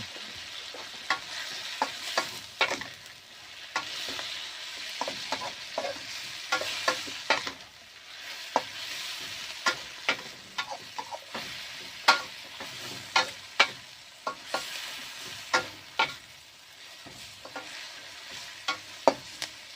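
Food sizzles steadily in a wok outdoors during stir-frying, with a continuous bright hiss broken by frequent scraping taps of a spatula against the pan.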